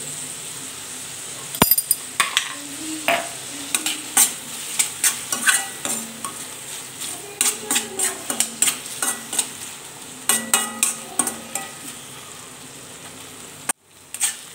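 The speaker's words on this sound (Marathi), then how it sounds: "आणि टोमॅटो पण छान असं आहे कांद्यासोबत ना परतून घ्यायचा आहे" Onion and tomato sauté with salt in a pan, a soft sizzle under frequent close spatula scrapes and clinks against the metal that come in quick irregular bursts, then a sharp thud near the end.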